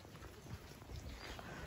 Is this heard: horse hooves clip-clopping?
yes